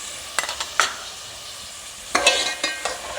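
Beef frying in a pot with ginger garlic paste for beef balti gosht, with a steady low sizzle and several sharp scraping strokes of a spoon stirring against the pan.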